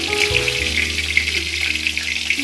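Shingi fish sautéing in hot oil gives off a continuous, even sizzle, with a faint tonal hum beneath it and no talk.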